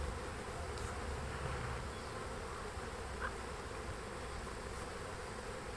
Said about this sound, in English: I just kind of waited for all the rest of the bees to go in.